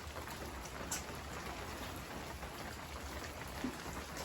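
Steady rainfall drums in a broad, even patter, with a couple of louder individual drops landing close by.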